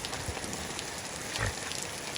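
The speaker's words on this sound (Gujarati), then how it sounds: "વરસાદ ચાલુ થઈ ગયો" Steady, hissing rainfall fills the whole stretch, with a dull thump partway through and no voices.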